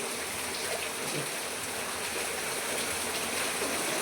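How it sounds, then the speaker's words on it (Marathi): Water poured to wash crabs for a village-style crab curry, heard as a steady, dense splashing rush that continues unbroken and fairly close throughout, with no talk. "आता पाणी टाकतो, थोडं पाणी टाकून धुवून घ्यायचं."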